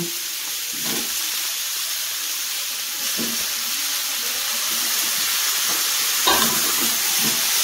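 Chicken meat going into a hot pan for a baby's chicken stew, giving a continuous loud sizzling hiss with a few soft stirring scrapes, close and steady with no talk.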